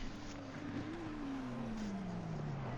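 Porsche race car engine in a racing video game at Spa-Francorchamps: a steady, loud engine drone whose pitch climbs, then slides lower over a few seconds, with no talking.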